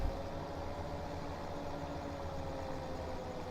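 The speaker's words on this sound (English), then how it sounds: "the mower like revs up real hard when it's not actually cutting grass" A mower and tractor in Farming Simulator 17 hum at a steady, sustained drone, the engine note held evenly throughout with no talk.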